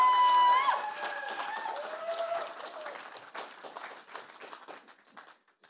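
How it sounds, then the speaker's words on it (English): A studio audience at a talent showcase breaks into applause that starts loud and thins out over a few seconds, with a voice briefly heard over the clapping near the start. "I want a really big applause again"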